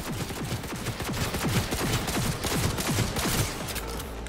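Rapid bursts of gunfire in the video game Cyberpunk 2077, a dense run of loud, evenly spaced shots filling the whole stretch with no pause.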